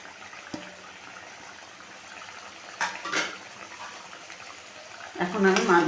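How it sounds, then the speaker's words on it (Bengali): Rohu fish curry with bean and lentil dumplings simmers in a pot, a soft steady bubbling hiss with faint clinks and splashes as fish is added, and a person speaks over it. "ঝোলটা ফুটে গেছে, এখন আমি মাছগুলো দিয়ে দিলাম।"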